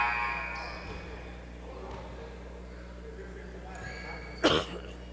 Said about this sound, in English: Sorry, I keep coughing, everyone.